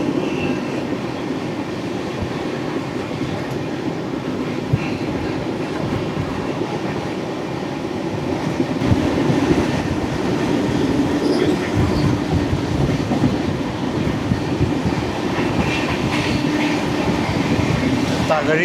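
An express train runs steadily past paddy fields in Kerala, heard from inside a 2A AC coach: a continuous low rumble and rattle of wheels on rail, growing slightly louder midway, with no talk over it.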